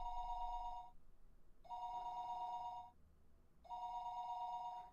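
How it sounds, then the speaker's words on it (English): A telephone rings in three evenly spaced bursts of electronic trilling, each about a second long with a short silent gap between them, clear and steady with no voices. "listening to the dial tone"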